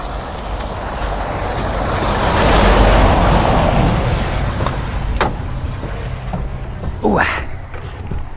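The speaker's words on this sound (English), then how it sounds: "lorries are coming, let's get out of the way." Heavy lorries rumble past on a road, a deep broadband roar that swells to a loud peak and then slowly fades, with a few brief sharp sounds and a short voice-like chirp near the end.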